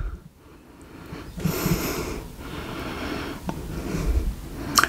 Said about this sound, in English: So smelling them side by side.